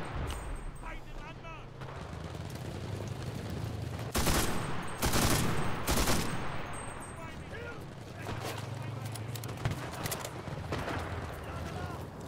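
Gunfire in the World War II shooter Enlisted: bursts of loud, close rifle and machine-gun shots cluster in the middle, with more distant firing and battle noise before and after.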